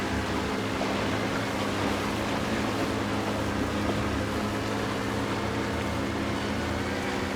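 In the video game DayZ, a boat engine runs steadily with a constant low droning hum and faint water wash, loud and even for several seconds with no voices over it.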